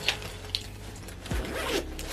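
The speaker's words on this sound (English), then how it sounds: "and then the zipper's down like this" A zipper on a silver Puma bag with black straps is pulled in one short, rasping sweep, close and clear after a couple of faint taps.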